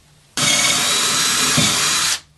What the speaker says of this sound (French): Pensez bien sûr à prendre une bonne mèche à bois pour avoir un travail propre.